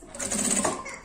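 Sewing machine running a short burst of stitches along a seam while making an essential oil holder, a brief, close mechanical whirr lasting about a second.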